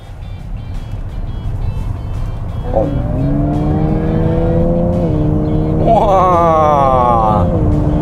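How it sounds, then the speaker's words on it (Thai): Synthetic engine hum from an ORA 07 electric car simulating a multi-cylinder engine, rising in pitch like a revving motor, steady and near, climbing again toward the end. "ทีนี้ลองเครื่องหลายสูบดิเสียงมันเป็นยังไง"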